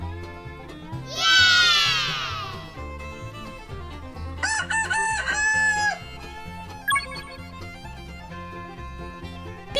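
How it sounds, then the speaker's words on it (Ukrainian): A rooster crows loudly once, followed by a second shorter crow and some clucking, over a steady low musical backing. "Півень."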